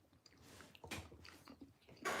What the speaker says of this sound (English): The chewing sounds so fucking rude and annoying.